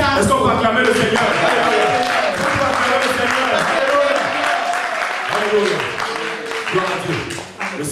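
A church congregation applauds and cheers for the Lord in a loud, sustained wave of clapping and voices that carries throughout, tapering slightly toward the end.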